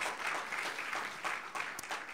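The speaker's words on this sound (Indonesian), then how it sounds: "Tepuk tangan yang paling meriah untuk Tuhan" A church congregation at a Sunday worship service breaks into enthusiastic applause, a dense, continuous clapping that holds steady for a couple of seconds, heard from within the hall.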